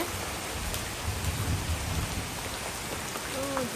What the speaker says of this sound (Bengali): আর মেঘ ডাকতেছে